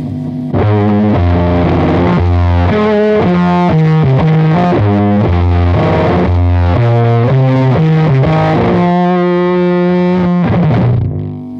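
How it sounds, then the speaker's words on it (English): An electric guitar runs through an Abominable Electronics Toke Machine fuzz pedal with the tone dialed back, giving a thick, low, saturated fuzz as a riff of sustained notes plays loud and close without speech. "sort of just nice thick fuzz"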